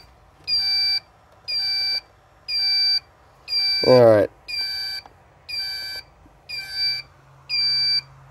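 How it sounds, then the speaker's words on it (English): An electronic alarm beeps in a steady rhythm, about one long high-pitched tone per second, loud and close, during a 40-amp draw test on a LiFePO4 battery, while a voice briefly speaks partway through. "I got a new alarm, it sounds like."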